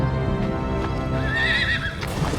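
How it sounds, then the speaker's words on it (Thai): A startled horse gives a loud, high whinny in an animated Bible story, while hooves clip-clop beneath a steady bed of background sound. "ม้าก็ตกใจและสะบัดโซโลให้ตกลงไป"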